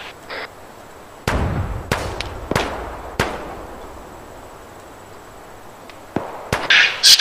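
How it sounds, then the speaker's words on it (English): Artillery firing for effect in the military game Arma 3, with several sharp booming reports spaced irregularly over a steady background hum, loud and close with no talking. "Five rounds, fire for effect."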